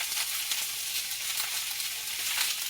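Green peppers sizzle and fry in oil in a skillet, a steady bright crackling hiss that holds evenly throughout, close and continuous with no voices.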